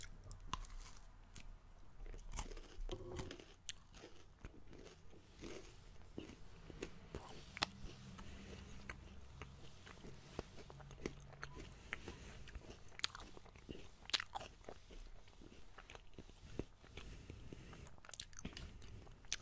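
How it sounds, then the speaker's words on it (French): Bites and chewing on a sweet American snack, a steady run of soft crunches and mouth sounds close to the microphone, quiet and intimate, with no speech. "On va prendre une bouchée."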